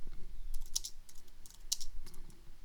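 Typing on a computer keyboard while building a web page in Dreamweaver, a few quick close key taps in two short bursts over a quiet background.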